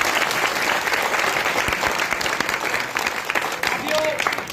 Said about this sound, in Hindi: एक बार साथियों तालियों से स्वागत करें।